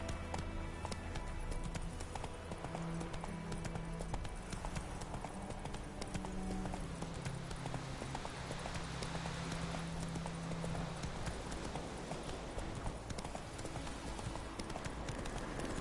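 Hoofbeats of a galloping horse in The Witcher 3 video game, a loud, fast, continuous clip-clop rhythm that runs throughout with a steady low rumble beneath.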